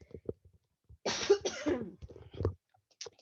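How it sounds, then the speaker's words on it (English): A person coughs several times close to the microphone, with a couple of rough bursts followed by softer throat noises and short pauses between them. "I am going to cough."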